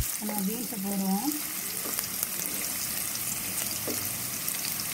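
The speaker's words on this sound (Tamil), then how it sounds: "கடுகு பொறிக்கட்டும் வெங்காயத்தை போட்டேன் ரெண்டு நிமிஷம் வதங்கட்டேன் நம்ம பீன்ஸை போடுவோம்" Green beans fry in a pan of popping mustard seeds and onion, a close, steady sizzle with a few stirring clinks and a brief voice early on.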